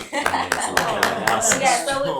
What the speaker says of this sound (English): I just want to clap for y'all.